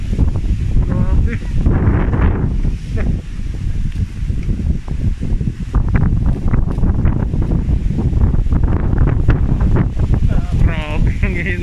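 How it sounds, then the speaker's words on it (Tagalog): Cold, strong wind in rainy outdoor weather roars and batters the microphone in continuous loud gusts, with leaves rustling and a person talking on and off through it. "Lakas ng hangin no."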